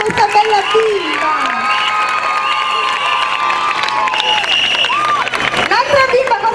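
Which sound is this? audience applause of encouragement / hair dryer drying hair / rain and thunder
audience applause of encouragement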